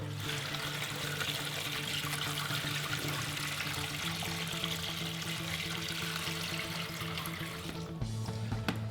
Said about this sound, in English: So now we have our screen, and we're going to be pouring the water